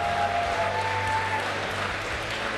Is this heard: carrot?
no